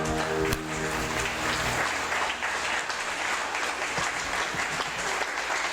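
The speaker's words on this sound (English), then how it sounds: "Big round of applause for them." Sustained audience applause for the jurors at the Miss Polonia USA 2015 pageant, a loud, even wash of many hands clapping throughout with music beneath it at the start.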